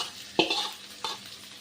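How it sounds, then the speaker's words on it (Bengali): Shrimp frying with onion and garlic in a pan, a steady close sizzle broken by two sharp stirring scrapes, one near the start and one later. "আমি পেঁয়াজ রসুনের সাথে চিংড়ি মাছটা ভেজে নিচ্ছি"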